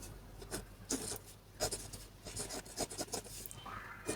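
Pen scratching on paper while drawing a ray for a geometry construction, a close, quiet series of short strokes and scrapes.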